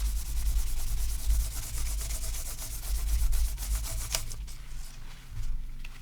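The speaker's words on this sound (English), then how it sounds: "If you polish it like this, it's going to shine like crazy." Steady rubbing of a cloth polishing wax into a wooden cutlery holder, a continuous close, moderately loud buffing sound that surges and eases in repeated strokes.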